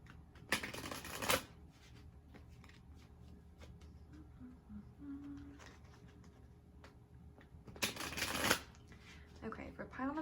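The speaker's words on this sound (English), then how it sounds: "I'm just gonna shuffle the cards a few times" Tarot cards being shuffled: two loud, crisp riffling bursts of roughly a second each, with quieter card handling and faint rustles between them, close to the mic.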